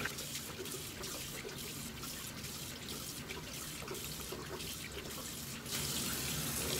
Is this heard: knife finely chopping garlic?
no